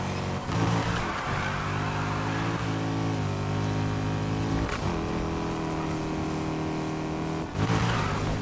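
Car engines rev in the racing game Need for Speed: Heat, a loud continuous droning engine note that rises and falls with gear changes and occasional sharp bursts of acceleration.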